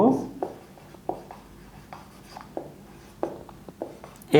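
Pen or chalk writing out a math equation in short scratchy strokes, about a dozen brisk taps and scrapes at uneven intervals, close and fairly clear over a quiet room.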